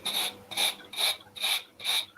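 Five even strokes of a brass wire brush scrubbing across an abrasive surface to clear it out, each scratchy pass about half a second long with short gaps, close and fairly quiet.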